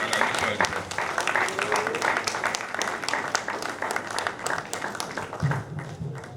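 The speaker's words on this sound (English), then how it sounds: "Please give him another round of applause." A ceremony audience gives a round of dense, sustained applause that holds steady for several seconds before easing slightly, while a voice speaks over the clapping.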